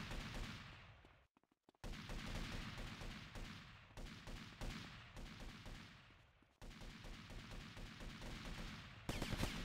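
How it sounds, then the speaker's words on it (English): Gang gunfire breaking out outside in GTA: Vice City, with rapid bursts of shots and fusillades that keep going almost without pause and drop away only briefly. "There is a gang shooting outside."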